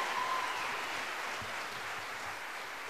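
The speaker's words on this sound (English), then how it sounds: "Can we give her one round of applause, please?" Steady applause for a singer at a school mariachi performance, a diffuse, fairly quiet wash of clapping heard from a distance that stays even and slowly thins toward the end.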